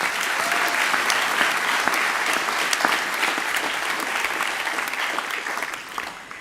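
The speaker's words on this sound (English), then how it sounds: "just give yourselves another clap." Graduates at a University of London graduation ceremony applaud themselves, a loud, dense wash of many hands clapping in a large hall that holds steady and then eases off toward the end.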